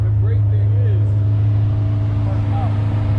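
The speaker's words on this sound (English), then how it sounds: "I want to hear the intakes and then I want to hear the exhaust." A stage 2 tuned 700hp BMW M5 roars with a loud, steady, deep exhaust drone and intake noise that fills the clip, with voices faintly audible over it.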